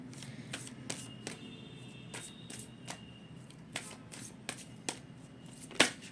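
Tarot cards shuffled by hand before one card is drawn, a steady run of crisp riffling snaps with soft handling noise in between, close and quiet, no speech.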